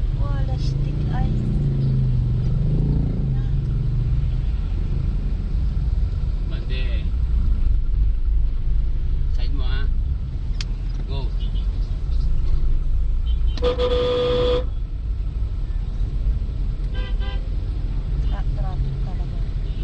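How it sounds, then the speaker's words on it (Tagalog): Busy road traffic in a steady, loud rumble of passing cars and buses, with a sharp horn honk partway through and a few fainter toots around it, while people talk nearby. "Traffic talaga."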